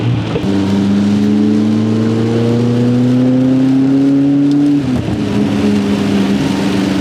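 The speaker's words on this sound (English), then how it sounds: "I'm just revving every like little bit because every time I rev, I see water come out my exhaust" A McLaren sports car engine idles loudly, revs up with a steadily rising whine, then drops back, over a constant hiss of heavy rain.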